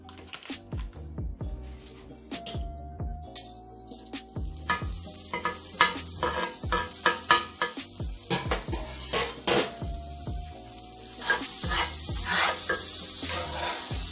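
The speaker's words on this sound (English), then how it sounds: "I'm going to carefully put some more butter in the pan." Butter sizzles in a pan beneath a grilled cheese sandwich, with a steady frying hiss broken by scrapes and clinks of a utensil against the pan, close and moderately loud, no talking.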